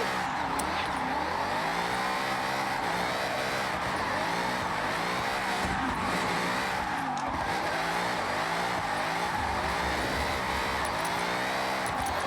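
A Ford Mustang Dark Horse drift build in Forza Horizon 6 drives free roam, its engine roaring and revving loudly and continuously, with tire squeal woven through the steady, dense drone.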